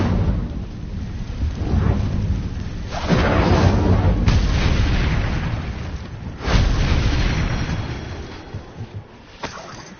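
Fiery Incendio spell cast in the video game Hogwarts Legacy, a loud, close, rumbling roar of flame with heavy boom-like surges around three and six seconds, then fading crackles and a few sharp pops, with no voices.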